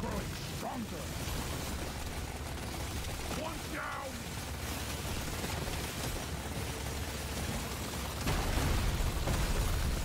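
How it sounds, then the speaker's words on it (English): Repeated explosions and bursts from the video game Deep Rock Galactic: Survivor, a dense, continuous barrage of booms and pops mixed with game effects, fairly faint overall with a heavier burst near the end. "A lot of explosions."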